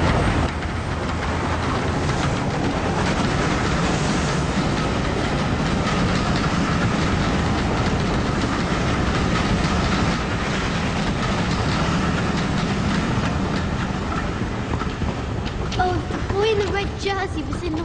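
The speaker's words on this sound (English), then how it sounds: "A train. Stand back!" A railway train rushes past in a steady, loud roar with rattling wagon noise throughout, close and sustained, with faint squeals near the end.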